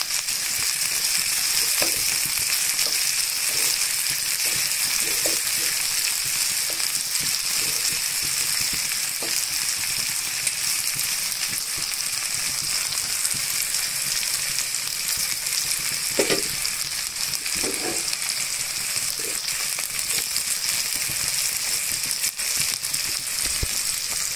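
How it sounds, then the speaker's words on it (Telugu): Onion and green chillies fry steadily in hot oil, a dense, continuous sizzle with occasional louder pops and stirring scrapes, close and unbroken throughout with no voices. "ఇంకా మిర్చిని కూడా సైడ్ కొంచెం ఆయిల్లో వేయించండి"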